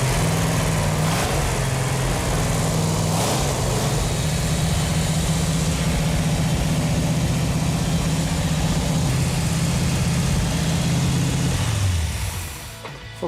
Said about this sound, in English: It feels really good to hear that engine run.